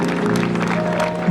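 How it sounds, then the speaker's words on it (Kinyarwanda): Applause from a gathered crowd welcoming the speaker's father at a thanksgiving ceremony. A dense, steady wash of many hands clapping at once, loud and continuous throughout, with a faint tonal hum underneath. "Mumuha amashyi menshi"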